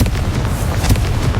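Confringo blasting spell from Hogwarts Legacy bursts in a dense, rumbling explosion with a booming low end and crackling bursts, loud and continuous across the short span.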